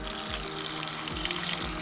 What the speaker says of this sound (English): I'm tilting the bucket just far enough that the top water comes out and the clay stays down in the bottom